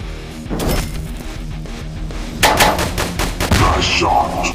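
Gunfire in the mobile game Police Dino Tank Car Jet Robot, rapid bursts of shots and impacts over game music, getting louder and denser midway, with a brief voice in the mix.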